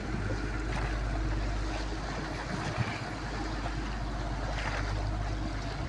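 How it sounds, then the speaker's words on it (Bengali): A river launch passes on the Hooghly while a floating fishing net is being set, a broad steady engine rumble mixed with water wash and wind, fairly loud and continuous. "ফেলতে ফেলতে একটা লঞ্চ চলে এসছে"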